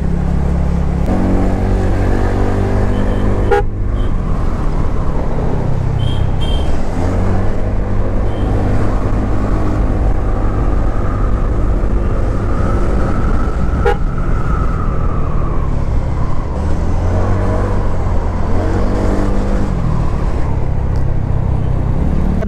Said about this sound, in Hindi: रेस मोड में काफ़ी अच्छा भागती है स्कूटी